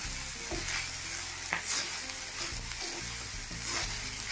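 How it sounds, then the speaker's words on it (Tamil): Rice sundal (boiled rice-flour dumplings) stirred and frying in a pan, with a steady close sizzle and rhythmic scraping strokes of the spoon about once a second, no voices. "போட்டுட்டு நல்லா கலரி விட்டுருவோம்."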